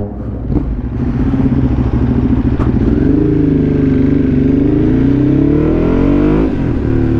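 A Ducati Hypermotard motorcycle's engine revs loudly and steadily while being ridden, its throaty drone swelling and rising in pitch over about seven seconds with a brief lift near the end.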